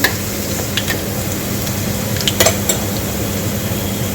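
Garlic frying in oil with cumin in a pan while being stirred, a steady close sizzle with scattered clinks and scrapes of a spoon against the metal throughout.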